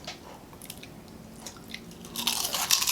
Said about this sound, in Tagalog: Unang kagat sa egg chicharon.